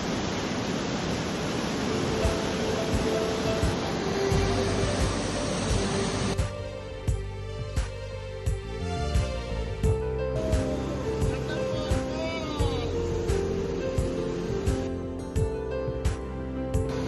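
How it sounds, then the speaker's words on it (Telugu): Thunderbird Falls, a waterfall near Anchorage, Alaska, gives a steady, loud broadband rush for the first several seconds before voices and other sounds take over the rest of the clip. "Thunderbird water falls"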